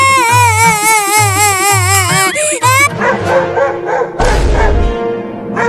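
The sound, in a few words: dog barking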